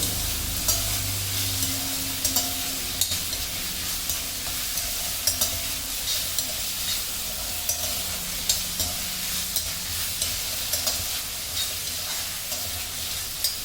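Chopped bell peppers for chutney sizzle and fry steadily in a hot pan while a utensil stirs and scrapes now and then; no voices.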